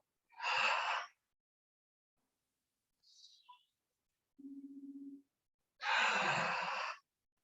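Two long breath sounds with a softly constricted throat during a yoga practice, an inhale near the start and a longer exhale near the end, separated by quiet and a brief low hum; close and moderately loud, no talking.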